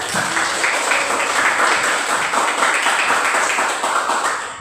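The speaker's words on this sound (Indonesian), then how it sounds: "tepuk tangan dulu" Classroom applause during a religious lesson, a loud close burst of many hands clapping steadily for several seconds, fading slightly at the end.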